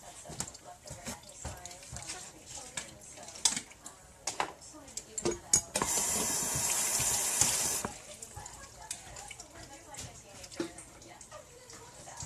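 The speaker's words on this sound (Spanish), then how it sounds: "Ahora voy a agregar agua." Water from a tap runs into a blender holding pineapple and spinach for a smoothie. A short gush lasts about two seconds, and clatter and a speaking voice come before and after it.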